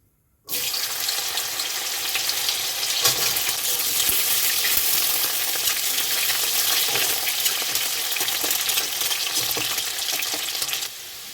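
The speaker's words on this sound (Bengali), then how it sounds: "উচ্ছেটা লাল লাল করে ভাজা হয়ে গেছে" Bitter gourd frying in white oil bursts into a loud, hissing sizzle after a brief silence and keeps up a dense, steady crackle until it eases near the end, no voices.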